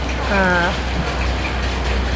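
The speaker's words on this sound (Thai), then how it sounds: "ฝนคงตกทั้งวันครับวันนี้" Steady hiss of rain falling, continuous and fairly loud, with a brief voice-like tone near the start.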